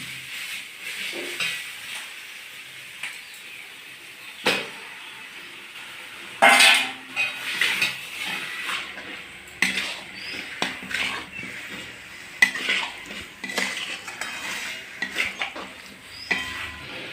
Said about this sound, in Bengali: এরপর আমি মাংসটা দিয়ে দেবো